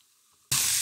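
Garlic and cumin frying in hot oil while being stirred, a sudden loud broadband sizzle that starts halfway through and holds steady to the end after a near-silent opening.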